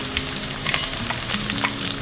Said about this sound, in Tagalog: Lagay natin ang sibuyas.